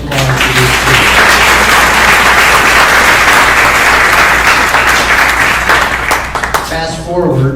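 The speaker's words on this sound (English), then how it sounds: "Can we have another round of applause for these two?" Sustained crowd applause fills a hall at a community faith gathering honoring homeless advocates, loud and steady for about seven seconds before tapering off as a voice begins speaking.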